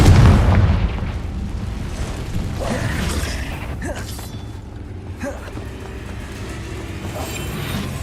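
The Confringo fire spell exploding in the wizarding video game Hogwarts Legacy: a loud booming burst at the start, then fading rumble with smaller crackles and mechanical debris sounds, no talking.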